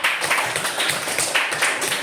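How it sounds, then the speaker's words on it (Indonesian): A classroom of pupils claps together in quick rhythmic bursts, a bright, even patter repeating close by with no talking. "Tepuk tangannya mana?"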